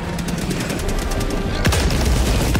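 Eagle airstrike bombs pound the ground in Helldivers 2, a rapid, loud rattle of close detonations merging into a continuous barrage, with one heavier boom partway through and no clear voices.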